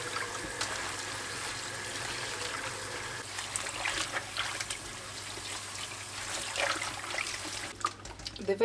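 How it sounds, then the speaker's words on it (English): Vegetables rinsed under a running kitchen tap, a steady trickle and splash of water with faint handling noises, close by and without talk. "The vegetables come already sanitized, but I like to just rinse it one more time, just to make sure."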